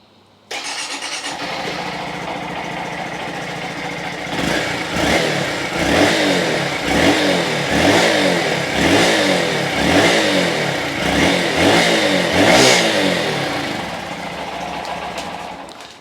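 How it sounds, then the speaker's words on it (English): A 2023 Honda Monkey starts up on its standard OEM muffler, settles into a fairly quiet idle, then revs in repeated short blips, close and loud, before easing back down. "let's just hear what this exhaust sounds like with the standard OEM muffler on it before we do the install"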